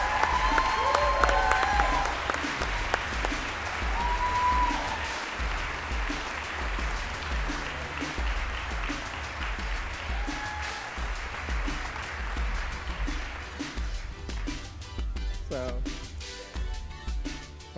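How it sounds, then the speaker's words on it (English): A concept art awards audience gives a long, sustained round of applause for a man being honored, loud at first and then gradually thinning, with crowd murmur and scattered whoops mixed in. "can we give a huge round of applause for Stuart Ng?"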